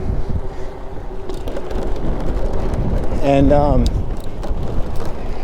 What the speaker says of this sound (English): The wind is gusting